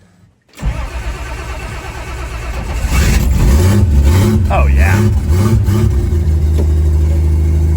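A 1979 Dodge Power Wagon with timing control switched off cranks and fires, then its engine climbs into loud rising revs that swell and fall in waves before settling to a rough idle, with a brief voice over it.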